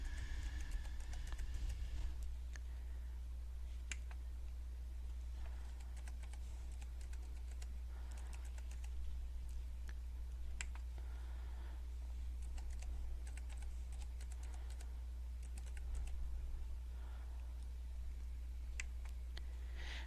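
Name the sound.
typing vocabulary words on a computer keyboard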